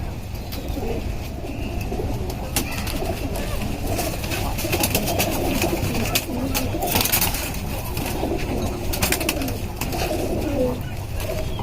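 A large working-line pigeon coos in a home loft, its low throaty rolling calls repeating steadily and close, with other birds and faint rustling around it.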